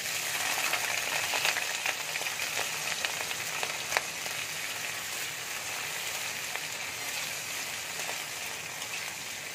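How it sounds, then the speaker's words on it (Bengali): A steady, crackling sizzle of onions frying in hot oil, close and continuous, with occasional sharper pops and no talking. "তেল দেখো গরম হয়ে গেছে, এবার আমি পেঁয়াজটা দিয়ে দিচ্ছি"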